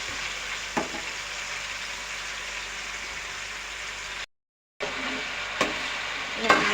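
Food deep frying in hot oil, a steady dense sizzle and crackle with a few louder pops and stirring clinks, broken by a brief dropout of silence midway.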